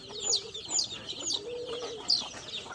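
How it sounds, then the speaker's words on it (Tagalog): Birds call in a yard, a series of short bright chirps repeating every half second or so over a low cooing or clucking murmur, fairly close and moderately loud. "Bird, bird."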